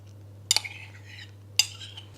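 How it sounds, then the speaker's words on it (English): A utensil clinks twice against a bowl while yogurt basbousa batter is stirred, two sharp knocks with a faint scraping smear between them over a low steady hum. "once the yogurt is inside the bowl, it's time to mix it all up together"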